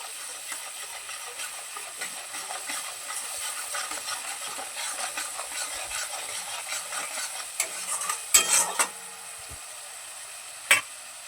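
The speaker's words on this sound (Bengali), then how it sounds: "এবারে সমস্ত মশলাগুলো তেলের মধ্যে খুব ভালোভাবে কষিয়ে নেব" Spices fry in oil for a soya and potato curry, a continuous close sizzle and hiss with light stirring, then a few sharp clanks of utensil on pan near the end, with no speech.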